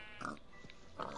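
A pig in a Minecraft-style video game gives two short, faint grunts, quiet and close together, with no talking.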